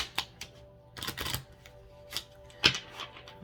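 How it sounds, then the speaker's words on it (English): A deck of oracle cards is shuffled up close, giving several quick papery riffles and taps with short gaps between them. "So I'm going to go ahead and shuffle these for you guys as well."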